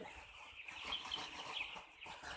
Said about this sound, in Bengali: আমি একটু মুরগিগুলো লাড়া দিই লাড়া দিয়ে দেখে নিই আর কোনো অসুস্থ দুর্বল এরকম আছে কি না